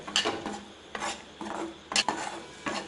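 Finely chopped ivy gourd is sautéed and stirred in a pan, a quiet sequence of scraping, rasping spatula strokes in an irregular rhythm over a faint sizzle.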